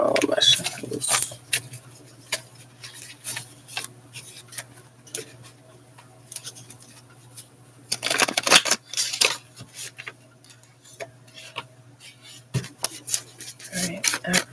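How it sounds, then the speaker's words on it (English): Tarot cards are shuffled in uneven bursts of crisp riffling and tapping, close and fairly quiet, with long pauses between them over a low steady hum. "I don't know what's going on with my shuffles."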